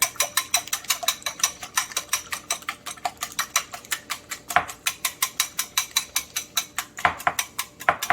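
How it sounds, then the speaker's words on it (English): A whisk beats egg whites with a pinch of salt in a bowl, making fast, even, rhythmic clicking strokes that continue close and clear throughout. "you beat the egg whites until it's kind of milky, got a milky color"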